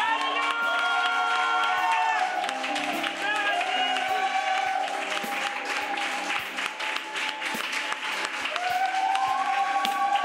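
A church congregation cheers and claps during a preaching service, with shouts and acclamations rising over sustained musical tones from instruments or voices, loud and continuous throughout.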